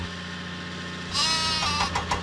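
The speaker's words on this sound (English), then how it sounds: "Den must deliver the sheep to Farmer McColl's farm" A sheep bleats loudly in the Thomas & Friends Lift Load and Haul video game, a single sustained cry followed by shorter bleats over a steady low engine-like drone.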